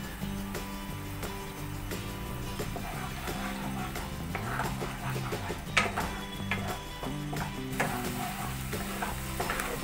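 Kashmiri chilli powder being stirred in a pan with spices for Bengali Tel Koi fish curry, a soft continuous sizzle with repeated scraping and light clinks of the spoon against the pan, no talk.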